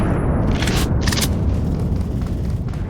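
A gas explosion set off by a blasting cap roars as a sustained, loud low rumble with a couple of sharp bright bursts early on, slowly easing off.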